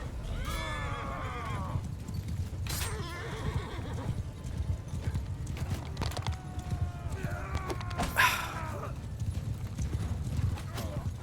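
Horse hooves clip-clop steadily in the Mount & Blade II Bannerlord battle, with horses neighing and whinnying several times amid clattering combat noise and someone talking over it.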